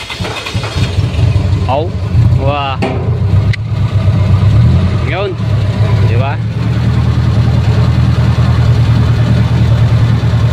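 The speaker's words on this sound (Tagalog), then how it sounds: "Ganda ng tunog ng makina, tsaka yung makina ng tambutso." A car engine idles steadily with a deep exhaust rumble, loud and continuous throughout, while people talk over it.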